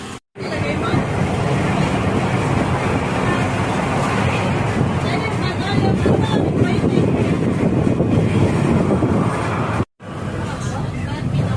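Heavy rain pours loudly and steadily while riding home on a motorbike, with wind buffeting the microphone and a voice or two faintly beneath the roar, broken briefly near the start and near the end.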